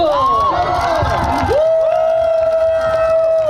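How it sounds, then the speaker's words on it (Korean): A crowd at a stage show during a Korean army ground forces festival cheers and shouts loudly, a sustained held tone riding over the dense roar for most of the stretch. "박수 박수."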